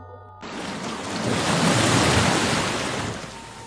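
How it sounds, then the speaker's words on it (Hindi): Sea waves break on a shore at dusk near a village, a broad roaring wash of surf that swells up after a quiet start and then slowly recedes. "समंदर की लहरों की आवाज़ अजीब सी लग रही थी।"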